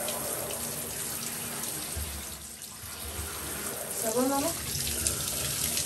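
Steady running water pours while a small child with chickenpox is bathed in water that is not hot, a continuous close hiss and splash with a voice and a brief child's cry over it.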